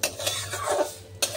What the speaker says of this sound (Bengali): এখানে সেওই ভাজছি,